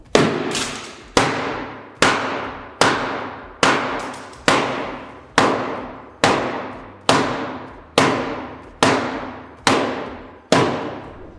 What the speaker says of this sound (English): but Mike, come and beat it with a hammer.